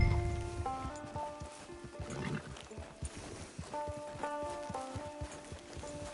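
Horse hooves in the Red Dead Redemption 2 online beta, a run of quick clip-clop beats under rumbling game ambience, with animal cries and a faint voice mixed in.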